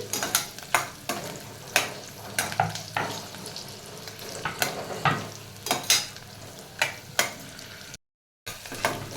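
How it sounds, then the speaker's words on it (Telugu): Paneer pieces fry in a pan and are stirred with rhythmic scraping strokes roughly every half second, each stroke over a continuous close sizzle, with a short dropout near the end. "ఇందులోకి పన్నీర్ ముక్కలు కూడా వేస్తున్నాము. సో మీరు పన్నీర్ని ఇలా చూస్తూ ఫ్రై చేస్తూ ఉండండి."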